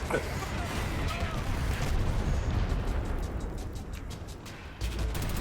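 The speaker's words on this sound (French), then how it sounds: "Ah, les explosions dans le jeu." Rapid bursts and crackling explosions in the game Dirty Bomb pile up into a dense, noisy barrage, loud and close, with sharp pops scattered near the end.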